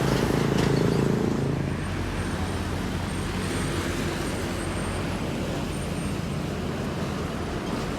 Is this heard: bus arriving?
yes